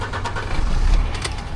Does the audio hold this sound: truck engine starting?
yes